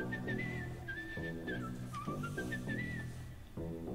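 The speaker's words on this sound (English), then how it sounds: "Oh goodness. That whistle." Melodic whistling in a K-pop song, a bright sliding tune carried over a full, steady music backing with bass and beat throughout.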